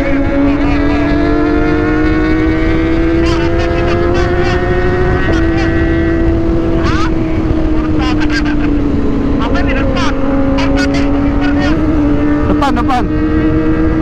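Roaring wind buffets a rider on a Kawasaki ZX25R motorcycle during fast highway touring, a constant loud rush with a steady engine whine beneath it and brief speech breaking through.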